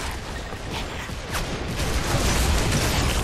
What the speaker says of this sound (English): There goes the Digger Launcher, you can see that.